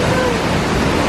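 Kozjak Waterfall in Triglav National Park, Slovenia, pours water in a continuous broadband rush that stays loud and even throughout, with no pauses or talk.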